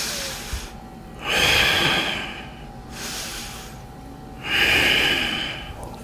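Two long, audible exhalations through the nose during a yoga class, each a soft airy whoosh of a couple of seconds separated by a quiet pause, close and fairly clear with a faint steady hum underneath.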